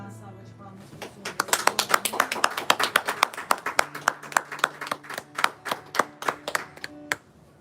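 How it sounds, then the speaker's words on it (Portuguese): A church congregation claps steadily at a baptism service, dense rhythmic hand claps building and continuing for several seconds, with faint voices and sustained music tones underneath. "você pode dar uma salva de palmas para o Senhor"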